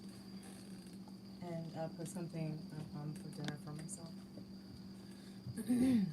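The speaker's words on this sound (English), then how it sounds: "Because I started missing like the sound of like crickets and summer and everything when fall came." A steady, high-pitched chirping of crickets from a recorded summer night runs throughout while a person talks nearby.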